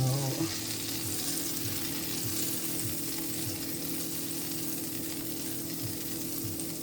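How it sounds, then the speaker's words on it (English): Tuna steak sautéing in a hot pan with butter, a steady close sizzle and frying hiss running throughout, with faint low clinks and shuffles of the pan in the background. "so we can saute the tuna first"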